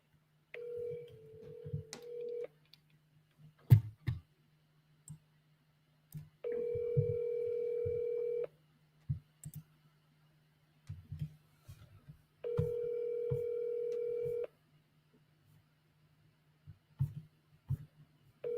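A phone call is placed: soft dialing clicks and keypad taps, then a repeated ringback tone sounding in evenly spaced long bursts with quiet gaps and faint handling noises between them.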